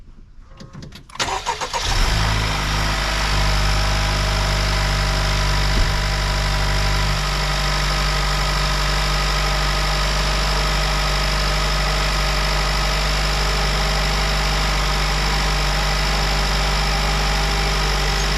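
A Honda Civic Type R FL5 cranks and fires up, then settles into a steady, loud, close idle with an even low drone that holds unchanged for over fifteen seconds.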